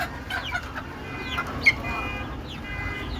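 Free-range native chickens raised for meat cluck softly in a farmyard, with short scattered calls and one sharper squawk over a steady low background.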